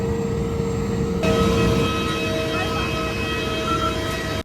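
Steady, loud droning of an airliner's engines heard from inside the aircraft, a continuous broadband roar with constant tonal hums, no voices present.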